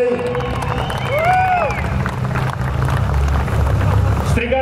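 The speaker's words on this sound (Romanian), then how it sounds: "Și aplauze pentru câștigătorul manșei!" Crowd at a car drag race applauds and cheers for a heat winner, a steady roar of clapping and voices over deep low rumble, with an announcer talking throughout.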